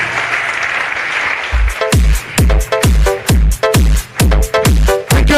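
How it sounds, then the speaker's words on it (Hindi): An audience bursting into loud, rhythmic clapping in unison at a motivational business talk, about a dozen strong synchronized claps following a brief murmur of crowd noise, close and forceful. "बजाओ फिर एक जोरदार तालियां।"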